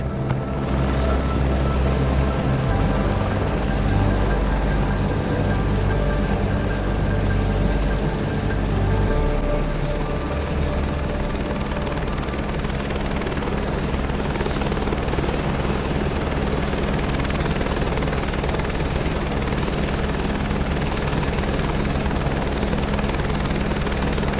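A helicopter lifting off in Microsoft Flight Simulator 2024, its loud rotor and turbine drone steady and close throughout, with a deeper throb easing in the first seconds.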